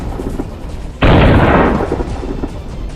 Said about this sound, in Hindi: कुछ देर के लिए खामोश हुई तोपें दोबारा आग उगलने लगी।